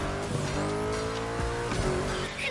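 A 953 horsepower front-engine rear-wheel drive racing car weighing 1,848 kilos roars through a drift in a racing game, engine howling steadily while its tires squeal against the tarmac.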